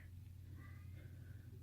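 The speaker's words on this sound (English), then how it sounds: "I also have a very talkative cat today." A faint cat meows a few times, soft and drawn out, over a steady low mechanical hum indoors.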